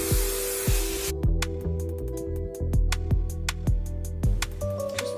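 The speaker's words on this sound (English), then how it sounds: "We're gonna go in with Chi Magnifying Volume Finishing Spray." Chi Magnifying Volume Finishing Spray hisses onto curled hair in one close, steady burst of about a second, followed by soft clicks and rustling.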